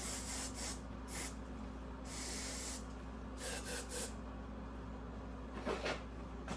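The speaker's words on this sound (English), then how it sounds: "And believe it or not, hairspray." Hairspray spritzed onto the chain drive of a Honda 750 Shadow motorcycle: several short aerosol hisses in bursts, close and fairly loud over a steady low hum, with no talking.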